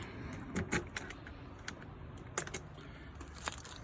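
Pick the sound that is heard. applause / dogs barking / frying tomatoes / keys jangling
keys jangling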